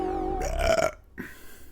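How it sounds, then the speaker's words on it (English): A single loud, drawn-out burp with a tonal, croaking quality, followed by a brief quieter gulp after a short pause, heard alone without talk. "No, that was a starry burp."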